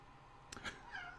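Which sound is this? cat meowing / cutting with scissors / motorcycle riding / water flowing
cat meowing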